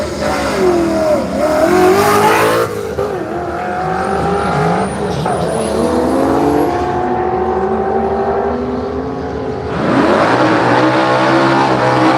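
A black Falcon Ute drag racing at Willowbank Raceway in Australia roars loudly, its engine revving hard through surging accelerations and falling back, with a fresh burst of power near the end.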